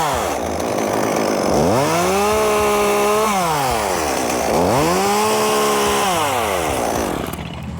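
A chainsaw cuts into a tree branch up close and loud, its engine revving up twice into long, steady bogged-down cuts, then dropping back to idle between them.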